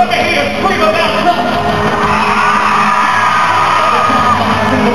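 A concert crowd screams and cheers at full volume in a steady roar of yells and whoops, with no break from start to finish.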